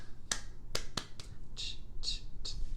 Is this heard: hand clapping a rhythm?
yes